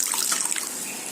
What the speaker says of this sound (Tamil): இது நம்ம பட்டாணி வேக வச்ச தண்ணி இருக்கு இல்லையா, அதை நான் ஏற்றுறேன்.